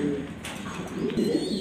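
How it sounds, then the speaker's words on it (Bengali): A grizzle male pigeon coos softly and repeatedly up close, with faint background noise and no talking. "এখানে আছে একটা গ্রিজেল নর কবুতর।"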